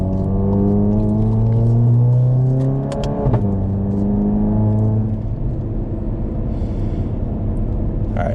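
A VW MK7 GTI fitted with a GTX3071R turbo drives along, its engine droning with rising and falling harmonic tones as it accelerates and shifts, heard from the cabin with windows cracked.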